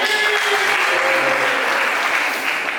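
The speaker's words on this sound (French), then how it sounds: "Pour l'applaudir puissamment" A church congregation at a Sunday service claps loudly and steadily, a dense unbroken wash of applause with a few voices mixed in.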